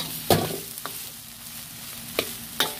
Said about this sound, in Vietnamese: bây giờ các bạn đảo cho tới khi nó xe đều với nhau nha